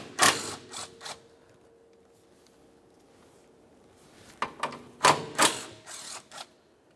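A 14 mm strut center mounting nut being spun off on a 1994-1997 Honda Accord, heard as a few short clicking ratchet bursts near the start and a louder cluster of clicks later, separated by a quiet pause.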